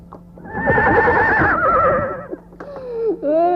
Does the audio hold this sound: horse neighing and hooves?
yes